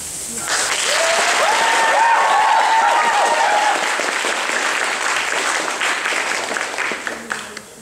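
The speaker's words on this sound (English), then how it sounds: "really loud applause" Lecture audience bursts into loud, sustained applause, a thick wall of clapping that builds quickly and carries on for several seconds with a few whoops, then thins into scattered claps at the end.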